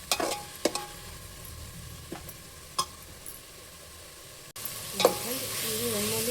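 Fenugreek, mint and coriander leaves fry in oil, a steady low sizzle with a few sharp spoon scrapes and clinks against the pan, the hiss brightening and growing louder near the end.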